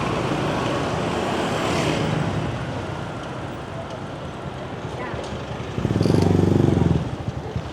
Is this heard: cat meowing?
no